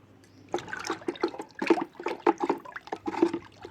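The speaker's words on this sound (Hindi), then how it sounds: "ये हम इसमें पूरा एक मग मिला देंगे और उसको अच्छी तरह से फिर से हिला करके" Mustard cake liquid fertilizer is stirred into about 12 to 13 liters of water, giving irregular close splashing and sloshing bursts with a faint trickle between them and no talking.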